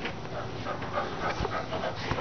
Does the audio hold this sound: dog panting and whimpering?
yes